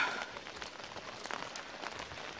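Rain falling at Masan Seowongok park, a soft, steady hiss of drops on surfaces with faint patters, quiet and continuous and heard close to the listener.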